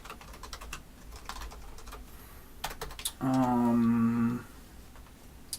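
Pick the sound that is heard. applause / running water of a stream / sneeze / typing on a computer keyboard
typing on a computer keyboard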